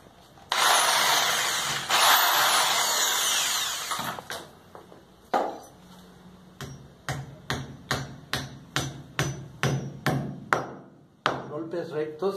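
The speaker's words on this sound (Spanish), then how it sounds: "Golpes rectos para no torcer el taquete." A hammer drives a plastic wall anchor into a wall with a series of sharp, evenly spaced taps that follow a burst of loud power drilling, all fairly close and with no talking.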